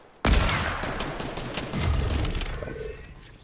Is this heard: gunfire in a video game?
yes